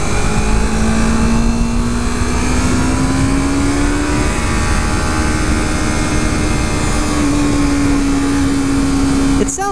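A 2015 Yamaha R3 parallel-twin motorcycle engine hums loudly and steadily while riding, its pitch climbing slightly then holding, with heavy wind rush throughout.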